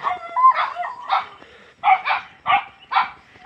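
Brownie, a fierce house dog at a rural mountain home, barks in a string of about seven sharp, fairly close yaps with short gaps between them.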